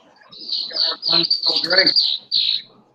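Many birds chirp at backyard bird feeders, a dense run of bright, high tweets and calls that keeps going close by, with someone talking over them partway through.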